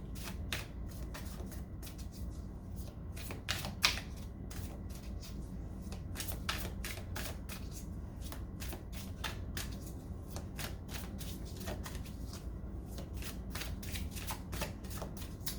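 Tarot cards are shuffled in quick, soft riffles and flicks, a continuous papery patter close up but faint, with no one talking.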